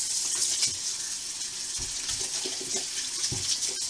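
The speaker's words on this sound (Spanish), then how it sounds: "me lavo las manos con agua y jabón." Tap water running into a sink while hands are washed with soap, a steady close hiss of flowing water with soft splashes and rubbing, no voices.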